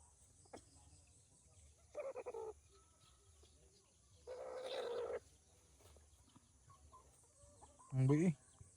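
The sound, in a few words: chickens clucking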